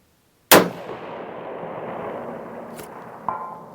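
A single sharp crack from a Desert Tech SRS M2 rifle in .338 Lapua on a long-range course, its boom rolling out in a long echo, then a faint distant impact on a steel target about three seconds later.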